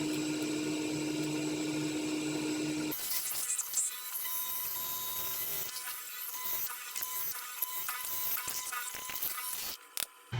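A mortising machine cuts a mortise in wood for a headset holder, starting with a loud, dense motor drone for about three seconds. A thinner whine with scattered clatter follows.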